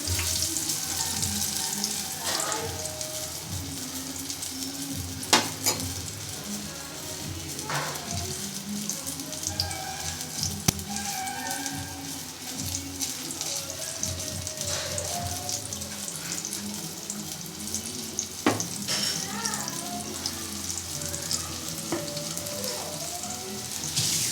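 Chicken pieces fry in hot oil for KFC-style chicken, a continuous dense sizzle and crackle with scattered sharp pops and clinks as the pieces are slowly turned, with no talking.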